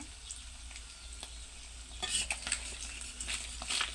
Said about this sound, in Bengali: একটা কড়াই বসিয়ে মাছগুলো আমি দিয়ে দিছিলাম ভাজার জন্য